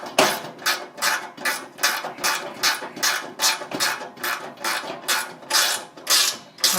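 A screw and lock nut on a bladed fixture are tightened with a ratcheting tool, giving a steady run of regular metallic clicks, close and moderately loud.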